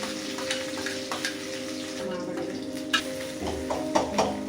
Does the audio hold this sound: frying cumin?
yes